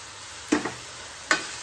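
Chilies and soybean seeds fry in a pan while a spoon stirs them, with a steady background sizzle and two sharp scraping stirs, heard close.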